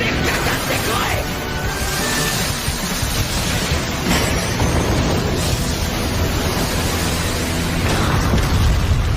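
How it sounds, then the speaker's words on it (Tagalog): An explosion in an anime battle arena sets off a sustained, roaring wall of noise that rumbles loud and steady for several seconds, with faint traces of a voice underneath. "Nagtanong si Present Mike kung ano ang sanhi ng pagsabog"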